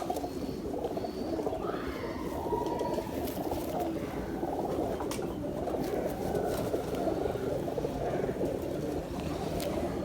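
Young pigeons, freshly matured squabs, coo in a steady low murmur across the whole stretch, mixed with faint bird calls.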